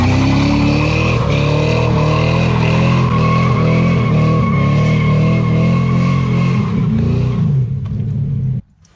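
Stock 1987 Mazda RX7 with a swapped LS1 V8 launching hard, a loud engine roar with screeching tire spin that holds for several seconds before cutting off abruptly.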